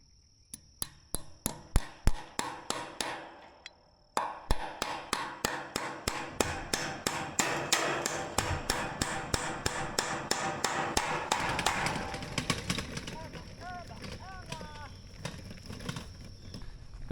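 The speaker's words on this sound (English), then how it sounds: "take your hammer and bang the staple in" Steady metal hammer strikes driving a fence staple, dozens of sharp taps in quick rhythm, near and loud, with a short pause early on and faint outdoor ambience behind.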